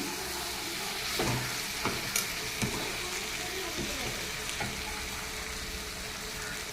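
Shrimp go into a pan of cooked banana flower and sizzle steadily, with soft stirring scrapes and a few light knocks over the low, even frying hiss.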